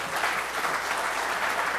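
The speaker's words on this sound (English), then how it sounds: "But give him a round of applause." A room of sailing skippers at a Race to Mackinac morning meeting gives a round of applause, a steady, even patter of many hands throughout.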